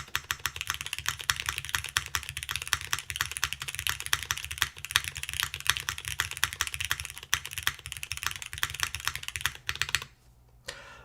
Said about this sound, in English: Keyboard sounds good.